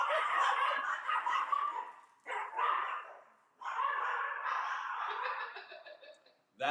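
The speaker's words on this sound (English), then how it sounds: "That's how that dog wakes me up." A dog barks in a long run of sharp, bright bursts with brief pauses between them, close and loud with nothing else heard around it.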